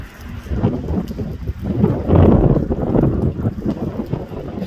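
Wind buffets a microphone outdoors on a snowy day, giving a loud rumbling roar that surges and fades unevenly for several seconds with no voice over it.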